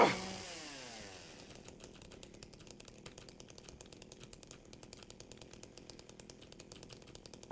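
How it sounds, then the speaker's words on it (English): Chainsaw Easter egg in the Silent Hill 2 Remake video game: a loud revving snarl at the start drops quickly into a faint, fast rattling idle that chatters steadily to the end. "You could do a little Texas Chainsaw Massacre Easter egg."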